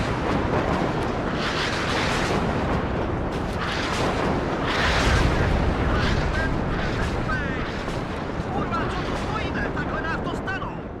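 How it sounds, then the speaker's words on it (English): Constant, dense rumble of artillery barrages and explosions in the WARNO Cold War strategy game, a loud continuous roar of overlapping blasts with scattered crackles across the whole stretch, with no clear pauses between impacts. "Germans here getting absolutely blasted by this artillery"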